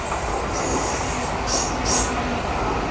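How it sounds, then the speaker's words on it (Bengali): A passenger train rolls into Bongaon railway station with a loud, continuous rumble of wheels on track and brief high squeals of braking wheels. "ফাইনালি আমাদের ট্রেন এন্ট্রি করছে বনগাঁ স্টেশনে।"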